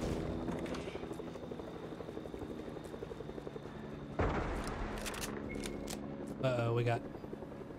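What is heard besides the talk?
helicopter in Fortnite (video game)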